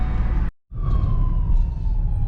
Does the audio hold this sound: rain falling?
no